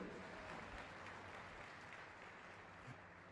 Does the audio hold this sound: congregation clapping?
yes